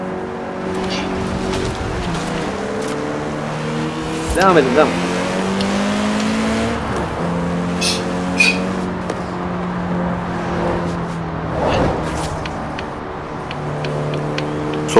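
Several cars race and pass in Forza Horizon 4, engines droning and shifting pitch steadily with brief bumps and tire noise, loud and continuous under a man's speech.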